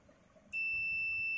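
A multimeter emits a steady, clear high-pitched continuity beep that starts abruptly and holds while a cellphone motherboard is being tested, heard close up in a quiet room.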